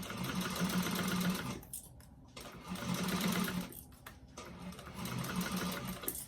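A sewing machine stitches a seam on a fabric bag in close, steady bursts with short pauses between runs.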